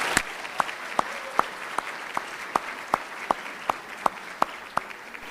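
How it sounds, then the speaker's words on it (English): Applause from the audience at a 2017 Illini basketball banquet, honouring a broadcaster, comes through as sharp, evenly spaced claps in a steady rhythm over a quiet room. "How about a big round of applause in recognition of Brian Barnhart"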